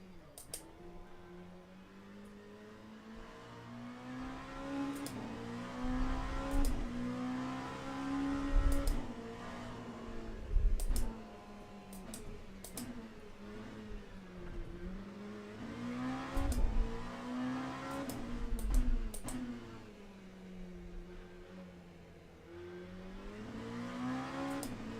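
Race car engine in the iRacing sim, wet-weather session, revving steadily with pitch swells as gears shift up and down, loud and continuous with brief thumps at the shifts, no talk over it.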